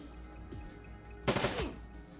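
Shadowrun combat gunfire: a short, sharp burst of shots crackles out midway through, loud against quiet background game ambience.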